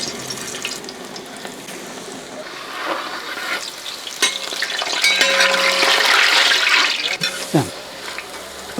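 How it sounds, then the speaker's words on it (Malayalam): Cauliflower pieces fry in hot coconut oil in an uruli pan, giving a hissing sizzle that swells and grows louder midway, with scraping stirs and a few clinks of a utensil. "ഇനി നമുക്കിത് കുറേശ്ശായിട്ട് വറുത്തെടുക്കാം."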